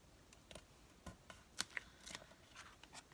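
Scissors trimming a paper postcard make a handful of faint, crisp snips and paper rustles in an irregular rhythm, close by and quiet.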